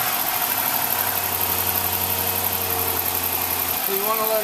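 Dodge Charger police car's Hemi V8 idling close by in a loud, steady drone with a low rumbling tone, its pitch shifting slightly near the end.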